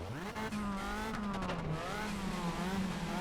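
A race car in ToCA Race Driver 3 pulls away from the start in first gear, its engine rising in pitch through a long rev, close and loud, with brief tire noise.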